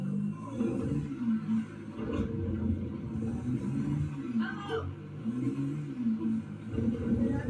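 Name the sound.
ATV engine driving in video game GTA 5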